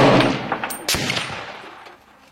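A single sharp rifle shot cracks close by at a big-game hunting practice range, followed by a long fading echo rolling away over a couple of seconds.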